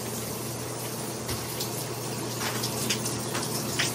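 Shower water runs in a steady, full hiss with a low rumble of flow, close and continuous, with faint knocks and splashes and no voices.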